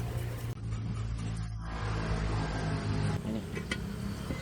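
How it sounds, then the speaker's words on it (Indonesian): A Daihatsu Terios engine running rough from old or fake oil idles with a steady, grumbling drone and a slight uneven throb throughout, close up and loud, with no speech. "Ini penyebab pada mobil Terios, mesinnya kasar"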